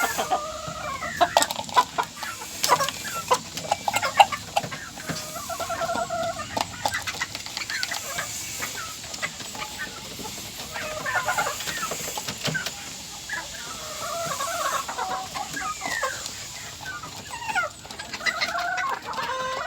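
Hens and roosters in a small backyard flock cluck busily at feeding time, with occasional louder squawks and a faint crow. The birds are close, and the chatter runs steadily throughout with no talk.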